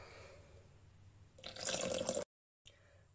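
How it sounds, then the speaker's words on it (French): Water poured into a Thermomix bowl while making Moroccan harira soup, a steady splashing pour lasting under a second, then a brief cut to silence and a faint tail. "on va ajouter 1 litre d'eau"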